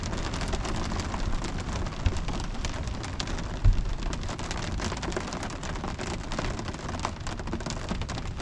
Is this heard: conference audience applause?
no